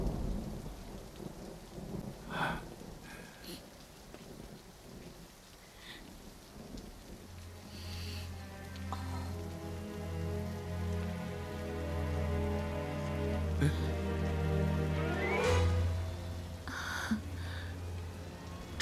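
Steady rain falls outside with deep, rolling thunder in a Chinese period drama, forming a continuous wash of downpour broken by rumbles, while tonal background music rises partway through.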